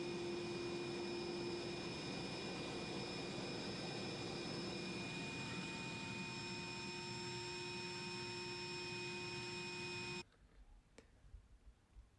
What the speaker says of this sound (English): get the old wet vac out. Get that sucked out there